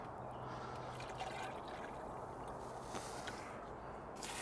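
Water poured from a half-litre jug, a soft continuous trickle and splash at close range, fairly quiet and steady throughout with no talking.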